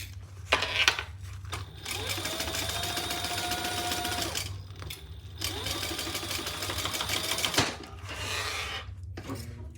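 Sewing machine basting fabric sides together, running in two long steady stitching bursts separated by a short pause, close and fairly quiet with no talk.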